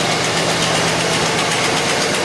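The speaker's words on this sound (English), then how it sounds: "Cranks right up. Other than that noise, and it's got like a small stumble to it." A 1984 Mercury Capri engine runs steadily and loudly up close with a slight stumble in its rhythm, a continuous mechanical drone with no voices.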